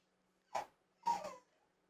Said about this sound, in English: Oh, you made the dog upset.